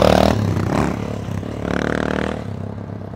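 Motorcycles passing on a road, engines revving and rising then fading, with clattering and scraping sounds near the start, fairly loud and close, no talk.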